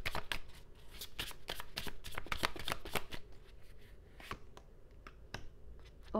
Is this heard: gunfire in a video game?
no